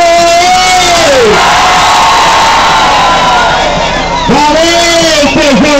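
A large crowd at a victory rally shouts and cheers continuously and loudly, while an amplified voice yells over the roar.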